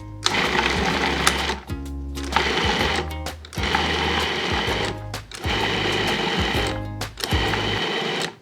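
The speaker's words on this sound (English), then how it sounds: "So now I'm gonna pulse, but I'm gonna pulse carefully because now I have my delicate raw fish." Food processor pulsing chopped carrots with delicate raw fish for ceviche, in three or four loud, sustained motor bursts of a few seconds each, separated by brief pauses, with no talking.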